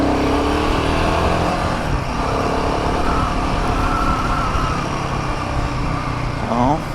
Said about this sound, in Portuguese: Vou andar um pouquinho mais aqui com a moto, só pra ter certeza.